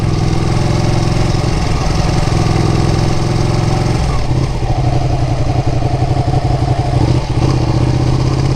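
Ducati motorcycle engine while riding, a loud, close, continuous rumble with a steady throb that briefly shifts pitch as the throttle changes, with traffic faint around it.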